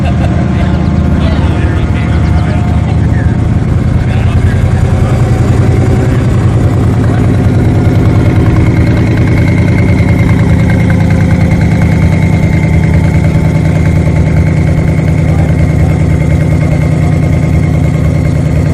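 A Corvette CERV III concept car's LT5 engine idles with a steady, throaty rumble that stays loud and close the whole time, its tone holding nearly constant.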